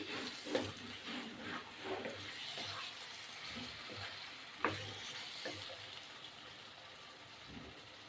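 Stuffed brinjal masala curry with oil risen to the top is stirred in a pan, a soft sizzle running underneath quiet scraping and clacking strokes at an uneven pace.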